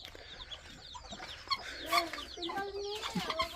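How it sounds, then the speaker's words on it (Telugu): A heavy breed rooster clucks in short, uneven bursts close by, mixed with other fowl calls and a faint voice in the background. "ఈ పుంజు హెవీ బ్రీడ్ అనమాట."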